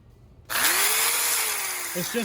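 A power grinder shaping steel axle relocation plates for leaf springs whines loudly and steadily after a short quiet start, with a high, harsh buzz; a brief voice or bump is heard near the end.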